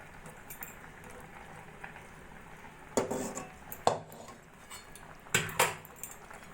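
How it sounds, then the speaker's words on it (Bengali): Metal spoon scraping and clinking against a pot while caramelized sugar is stirred into kheer, a milky rice pudding: a few separate clanks over a low simmering hiss. "এবার ক্যারামেল করে নেওয়া চিনিটা আমি এই পায়েসের মধ্যে দিয়ে দেব"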